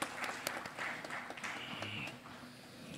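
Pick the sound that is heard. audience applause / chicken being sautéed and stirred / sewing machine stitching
audience applause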